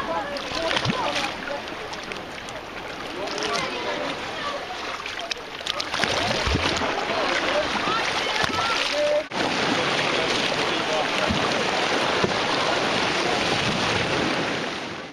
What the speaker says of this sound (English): you just need to get up close to the rocks when the waves are coming in.